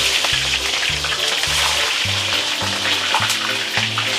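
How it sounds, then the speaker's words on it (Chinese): Scallions and ginger frying in hot oil with star anise, giving a loud, continuous sizzle over a repeating low rhythmic hum, no talking. "炸的葱看冒出香味了，黄了"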